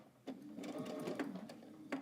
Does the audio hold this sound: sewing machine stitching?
yes